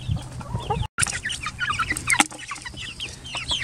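A new batch of baby chicks peeping in a farm coop, a busy chorus of high chirps at close range, with one brief break.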